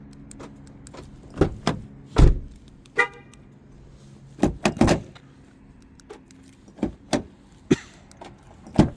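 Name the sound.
car door locking and unlocking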